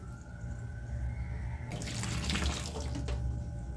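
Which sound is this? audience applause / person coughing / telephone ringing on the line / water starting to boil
water starting to boil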